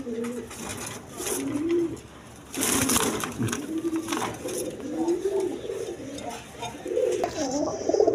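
A pair of pigeons, a green-necked Bagha male and a Kagoji female, coo in repeated low rolling phrases close by, with a brief flutter midway and someone talking faintly over them.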